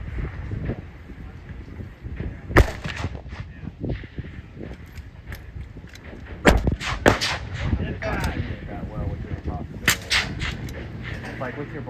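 Rifle shots from an Aero Solus precision rifle in a PRS setup, several sharp loud cracks spaced seconds apart outdoors, with someone talking between and over the shots.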